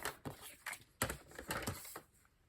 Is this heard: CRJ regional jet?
no